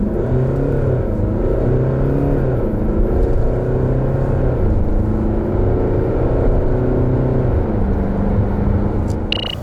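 A 2019 Jeep Cherokee 2.2 diesel accelerates flat out in a timed acceleration test, with a loud, steady engine drone rising in pitch and falling back at several upshifts, heard from inside the cabin.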